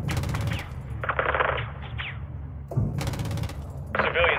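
Bursts of 25mm gunship cannon fire from Call of Duty Modern Warfare 2, several rapid rattling volleys separated by short pauses, loud and close, with a radio voice talking between them.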